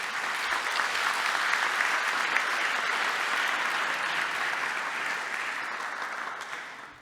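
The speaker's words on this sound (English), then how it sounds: "1, 2, 3, applause." An audience at a university graduation ceremony gives a sustained round of applause, a thick, uniform wash of many hands that stays strong before tapering slightly at the close.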